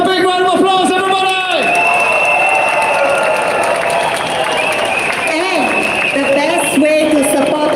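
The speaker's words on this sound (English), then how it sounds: "give yourself a big round of applause, everybody!" A Singapore election rally crowd at UOB Plaza applauding and cheering, with loud sustained clapping and whoops under an amplified voice talking over the noise.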